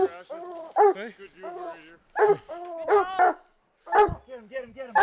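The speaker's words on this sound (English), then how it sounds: "Good dog. Good dog. Good dog. Get him." A hunting dog on a cougar hunt barks repeatedly and loudly in close, excited bursts, mixed with someone shouting encouragement.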